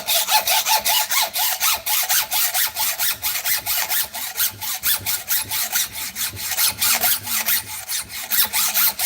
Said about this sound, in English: Now I'm going to cut across and get rid of that little chunk.